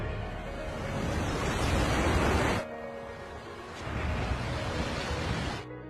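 Tsunami waves in an animated film crash as a broad, roaring surge, two long swells of rushing water noise with a brief dip between them, loud and close, with no voices.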